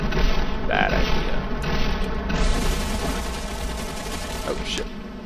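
Gunfire in the Cepheus Protocol video game rumbles as a dense, continuous barrage of booms and rapid shots, loud and sustained, with a few short bursts standing out.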